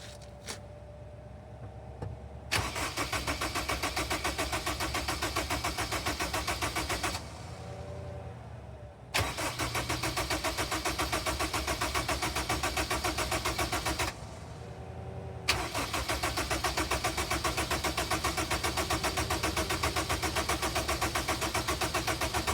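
A car engine cranks and fires after a jump start with jumper cables, then runs steadily at a loud, continuous idle, with a brief dip and renewed revving partway through.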